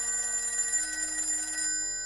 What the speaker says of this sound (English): Later that day, the phone in the Lawrence house on Berry Hill Lane started to jingle.